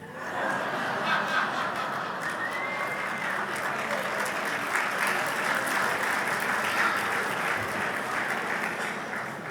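Sustained audience applause fills a synagogue sanctuary during a Passover sermon, broad and steady throughout with a few chuckles mixed in.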